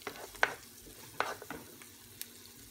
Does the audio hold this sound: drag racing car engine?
no